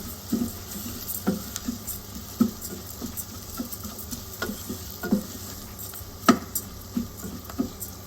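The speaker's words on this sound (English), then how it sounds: "Now add the rice. Half a cup of basmati. And stir to coat." Half a cup of basmati rice is stirred in a hot pan, giving soft scattered taps and scrapes over a faint steady sizzle. The sounds are fairly quiet and irregular, and no one speaks.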